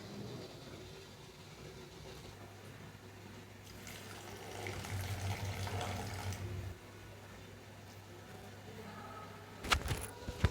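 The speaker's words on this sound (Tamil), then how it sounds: "தேவையான அளவு தண்ணி சேர்த்துட்டு" Water pours into a cooking pot of tamarind-based kulambu for a few seconds, a soft trickling splash over a low hum, followed by a brief clatter near the end.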